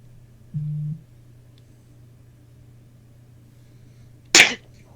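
A single sharp sneeze bursts out near the end after a quiet stretch, preceded by a short electronic beep early on.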